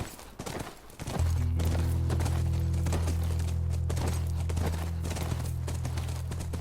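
In the video game The Last of Us, rhythmic horse hoof clip-clop repeats steadily over a loud low droning hum that starts about a second in, with no talking.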